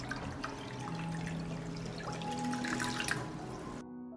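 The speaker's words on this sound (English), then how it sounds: "I pour water up to the height of the lid." Water runs steadily from a tap into a deep pot holding glass jars, a close, continuous splashing stream filling it to lid height, then stopping abruptly near the end, with no voices.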